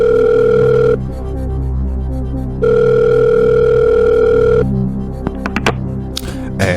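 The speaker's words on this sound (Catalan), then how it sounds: "Aviam si ens l'agafa el telèfon." An outgoing telephone call rings out with two long, steady tone bursts separated by silence, loud and close, followed by a few clicks and pickup noises, with no voices.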